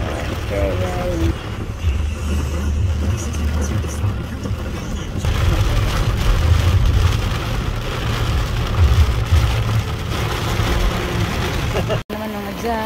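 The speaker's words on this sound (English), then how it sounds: "Rain na naman dito." Rain falls steadily on a road with vehicle traffic passing, a continuous loud wash of rain and engine rumble, with talking over it.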